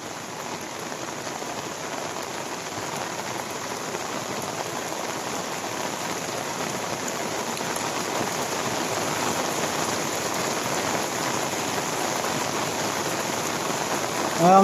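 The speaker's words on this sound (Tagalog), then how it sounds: "Ang lakas ng ulan." Heavy rain pours beside the Marikina River, a steady dense hiss of drops on surfaces, continuous and even throughout without voices.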